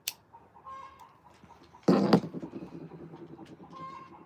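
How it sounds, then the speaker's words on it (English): A hen gives a loud burst of agitated clucking partway through while laying an egg, sitting over a quieter, steady run of softer clucks and background chatter. "That is the universal chicken language for an egg be coming out."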